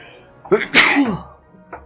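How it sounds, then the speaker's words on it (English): A single loud, close sneeze bursts out with a quick intake before it, heard during a livestreamed play session, followed by a short faint sound at the end. "I'm about to sneeze."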